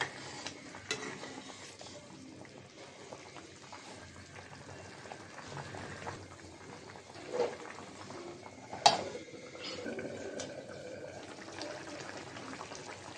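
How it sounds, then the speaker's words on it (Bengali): Shing fish and potato curry boiling in a pot and being stirred, a soft low bubbling simmer with occasional spoon scrapes and a couple of sharp metallic knocks against the pot, quiet and close. "শিং মাছের তরকারিটা বলক এসেছে, একটু নাড়াচাড়া দিয়ে দিলাম।"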